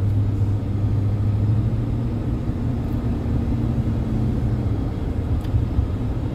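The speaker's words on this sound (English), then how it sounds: "this is a heavy duty vehicle, man" A heavy-duty vehicle built to carry a full crew with equipment and materials, driving on roads near East Legon Hills, Ghana, gives a steady, loud low engine rumble and road drone throughout, with no talk.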